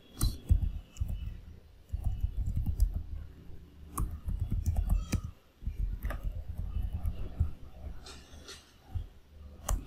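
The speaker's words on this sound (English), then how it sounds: "Now type the sample Python command." Typing on a computer keyboard while entering a sample Python command on Oracle Linux, heard as a steady run of close, quick clicky keystrokes over about ten seconds.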